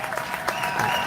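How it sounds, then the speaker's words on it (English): Indoor audience clapping at a city address by the mayor, a crowd's dense applause heard close and steady, with a faint voice mixed in. "All these people clapping."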